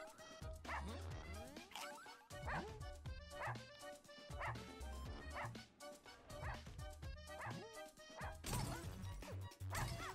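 Repeated barking and yipping from several dogs in the Russian Subway Dogs video game, with crashes and whacks and a whimper, coming in bursts across the stretch alongside game music and effects.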